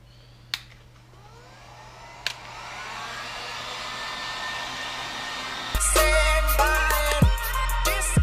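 Heat gun warming the cold B-pillar surface of a Scion tC before a carbon fiber applique goes on, outdoors in cold weather; a steady close blowing hiss with a couple of sharp clicks, then louder rattling airflow toward the end.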